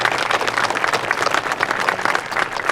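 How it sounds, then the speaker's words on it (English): Audience at a tourism event gives a round of applause for students, a loud dense clatter of many hands clapping close by, steady and unbroken for the short stretch. "yes, please give them a round of applause."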